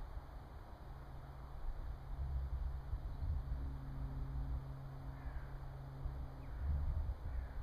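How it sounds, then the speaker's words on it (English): Crows cawing out over a snowy landscape, a few distant harsh calls scattered through steady wind-like background hiss. "Plenty of crows."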